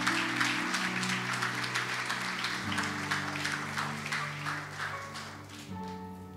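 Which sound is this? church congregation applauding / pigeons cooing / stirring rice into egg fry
church congregation applauding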